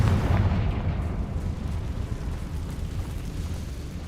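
Confringo fire spell explosion in Hogwarts Legacy: a deep booming blast that settles into a sustained, heavy low rumble, loudest at the start and easing slightly over about four seconds, with no talking.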